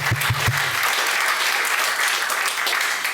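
A church congregation applauding during a Sunday service, a dense, steady wash of clapping that carries on throughout, with a brief voice at the very start.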